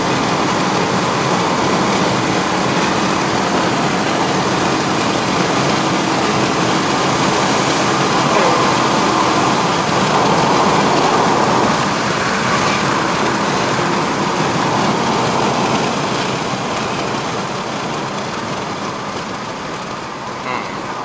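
A 2017 Proton Saga 1.3L Premium CVT accelerates on the uphill Genting run in Malaysia. Inside the cabin a loud, steady engine and road drone holds for about twenty seconds before easing slightly at the end.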